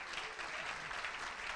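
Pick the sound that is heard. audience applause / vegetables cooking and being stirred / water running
audience applause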